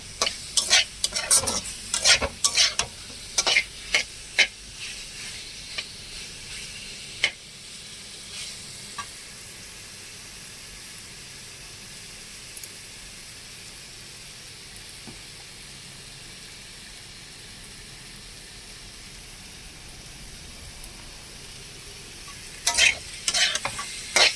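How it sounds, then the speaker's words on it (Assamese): Boiled potatoes fry in hot oil with salt and turmeric in a pan, scraped and stirred with a utensil: clattering stirring bursts at the start and end around a steady sizzle, close and alone with no talk. "এই আলুকণ অকণমান ভাজি লৈ"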